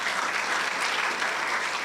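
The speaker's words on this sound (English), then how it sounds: "A round of applause for Daktari for that." An audience at a foundational literacy and numeracy assessment report launch applauds in a dense, steady wash of many hands clapping. The applause is continuous and fairly loud, with no clear voices over it.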